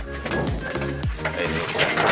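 Pigeons coo in a loft after being moved to a new place, with repeated low throaty coos in quick succession, close and clear, mixed with other birdlike sounds.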